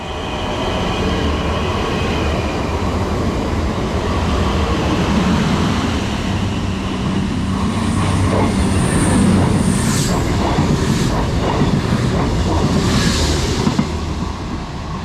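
A Class 450 electric train runs through a station on the Southampton line, a loud sustained rumble of wheels and motors with rising squeal and clatter as the carriages pass close by.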